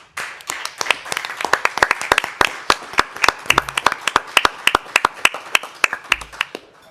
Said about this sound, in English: Can we give Trustee Clements a round of applause?